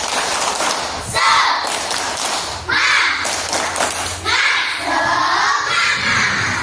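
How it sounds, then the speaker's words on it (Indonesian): A classroom of children doing a rhythmic 'tepuk semangat' spirit clap, bursts of patterned clapping and thumps with shouting voices, repeated in several loud rounds. "Tepuk semangat."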